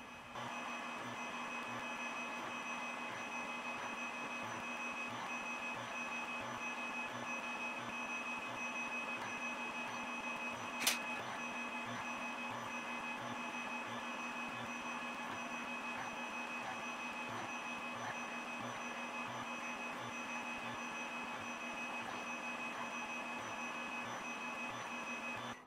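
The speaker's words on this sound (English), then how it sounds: "I'll fire up the Tormach and drill the holes" A Tormach CNC mill drills holes in leather for a sheath, a steady loud machine whir with a faint rhythmic low pulse running throughout and one sharp tick midway.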